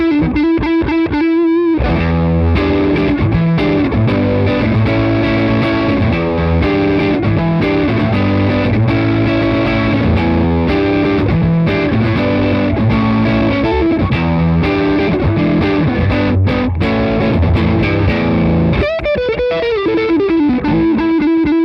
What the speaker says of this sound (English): push the gain on the low gain setting all the way up full with a Strat on the neck pickup